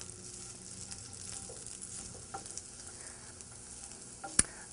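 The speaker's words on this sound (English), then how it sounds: "keep mixing your onions and carrots while they're in the frying pan, and wait until the onions get slightly golden color." Onions and carrots sizzling in a frying pan as they are stirred, a soft steady hiss of frying with faint scraping and one sharp clink near the end.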